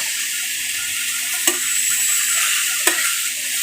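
Egg and papaya stir-fry in a pan with fried garlic over lowered heat, giving a steady, bright sizzle throughout. Two sharp spatula clacks against the pan break through the sizzle.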